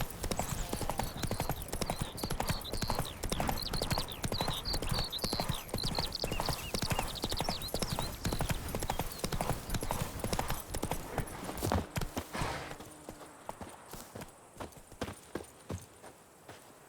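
Roach, the horse in the video game The Witcher 3: Wild Hunt, trots with brisk, continuous clip-clop hoofbeats close by, slowing and fading after about twelve seconds into quieter scattered steps.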